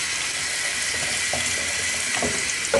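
Garlic sautéing in a pan: a dense, steady hiss of hot oil sizzling up close, with a few soft pops and clicks toward the end.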